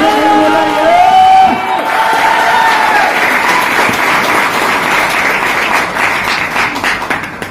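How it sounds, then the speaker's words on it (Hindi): Loud sustained applause and cheering from distributors at a business-plan gathering, dense clapping with whoops and shouts, a voice briefly audible at the start, tapering slightly toward the end. "आज जितने भी नए गेस्ट हैं उनके लिए ऑल डिस्ट्रीब्यूटर जोरदार ताली बजाएंगे।"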